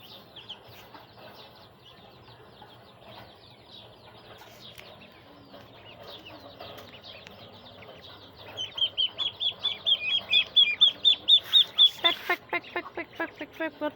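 Chickens with a hen and her chicks at a rooftop garden, soft clucks and peeps throughout, then a louder run of rhythmic repeated calls near the end, fairly close.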